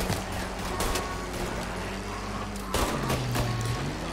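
Bursts of rapid gunfire in Mafia: Definitive Edition crackle over a constant rumbling engine drone, with sharp cracks recurring throughout.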